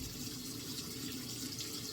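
Warm water runs steadily from a tap while a face is being rinsed at a sink, making a continuous close hiss and splash with no voices.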